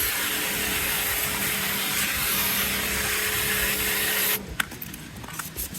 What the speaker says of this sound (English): Actually using my small pressure washer gadgetry, which I bought a while ago, electric one, just to clean it up a little bit, get the grime out